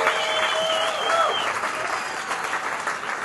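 A concert audience at A38 applauds steadily, a dense wash of clapping with some cheering, loud and continuous throughout.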